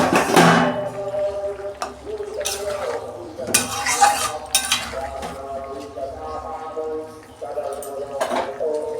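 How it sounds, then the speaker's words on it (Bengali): A lid is lifted off a cooking pot of simmering bhetki fish curry with vegetables, giving a sharp metallic clink followed by scattered clatters and knocks of pot and utensils, fairly close and moderately loud. "এই যে ঢাকনাটা আমি খুলছি।"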